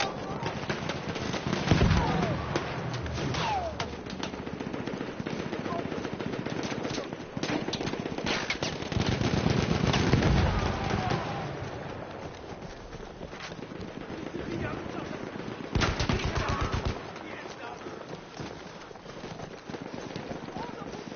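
Rapid machine gun bursts rattle through a chaotic Battlefield 1 battlefield, loud and near, mixed with explosions and game voice lines and sustained across the whole stretch.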